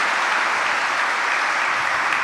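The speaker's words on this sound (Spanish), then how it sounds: "Démosles de nuevo un aplauso." A congregation at a church mass breaks into sustained applause, a loud, even wash of clapping with no break across the stretch.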